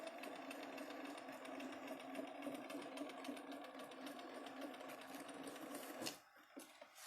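A sewing machine stitches fabric fed steadily through, a fast even mechanical chatter running continuously at close range before stopping abruptly near the end, leaving a few faint clicks.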